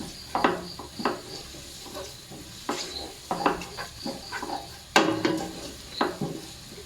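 Sliced mushrooms with salt and chili sizzle in hot oil in a pan, with a steady frying hiss broken by repeated scraping and clinking strokes of a spoon stirring, fairly close.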